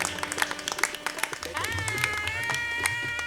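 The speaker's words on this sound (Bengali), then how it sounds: "ওর জন্য একটা জোরে হাততালি হোক।" Clapping from an audience at a Bengali stage event, rising in a burst of claps mixed with voices and a sustained musical tone starting partway through.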